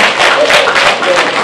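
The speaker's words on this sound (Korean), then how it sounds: "박수 부탁드립니다." Audience at a youth debate contest clapping, a brief burst of dense applause lasting just over a second with speech mixed in.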